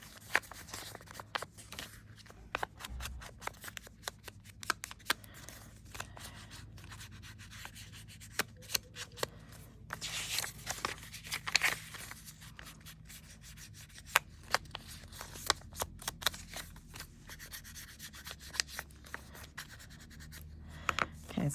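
An ink pad is rubbed along the edges of paper notebook pages, giving a long, steady stretch of close scratchy scuffing broken by many quick swipes. No one speaks over it.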